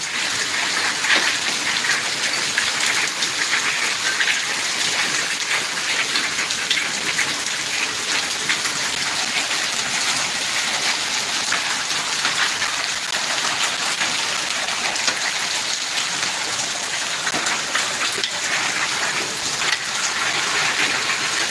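Hail and heavy rain pour down on wheat fields in February, a dense, steady hiss of drops and pelting ice that stays loud and even throughout, with no pauses.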